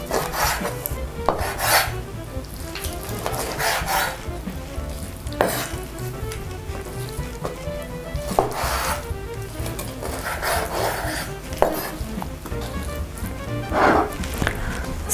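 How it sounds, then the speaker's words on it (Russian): A knife cuts raw chicken into portion pieces on a board: repeated dull chops and scraping strokes come at an irregular pace, close and moderately loud, with no talking. "Режем на порционные кусочки."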